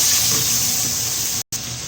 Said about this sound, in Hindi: अब पानी डालेंगे, देंगे चावल के हिसाब से।